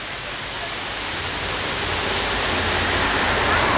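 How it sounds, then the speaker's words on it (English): Water from an artificial waterfall feature in a park in Duhok rushes in a dense, steady roar that builds slightly louder, close by and continuous, with no clear voices. "there's another area where water goes, and they have a really nice waterfall area."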